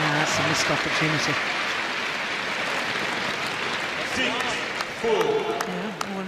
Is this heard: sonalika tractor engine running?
no